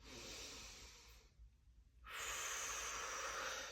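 During a yoga flow, a person takes a long, deep, airy breath close to the mic, pauses briefly in near silence, then breathes out in another long, steady rush of air.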